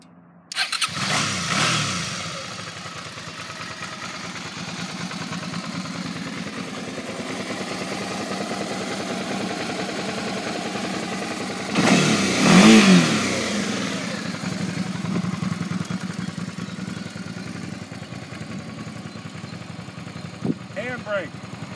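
A 2008 Suzuki DL650 V-Strom motorcycle engine fires up and runs steadily for about twenty seconds, with a louder rev around the middle, close by, while someone talks over it.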